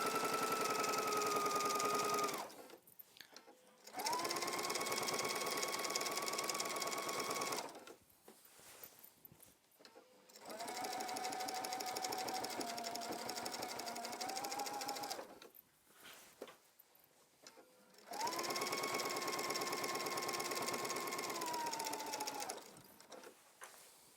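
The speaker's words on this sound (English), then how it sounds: "slowly and steadily, I'm going to top stitch along the top of that waistband" A sewing machine top stitches slowly along the top of a trouser waistband, four separate bursts of close, even whirring with short pauses between them and no talk.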